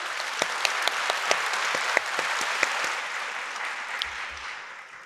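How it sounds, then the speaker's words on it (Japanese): An audience at a public event in Nagano applauds as former Prime Minister Suga and an economist are welcomed, a steady wash of clapping with a few sharp close claps that gradually fades. "皆様大きな拍手でお迎えください。"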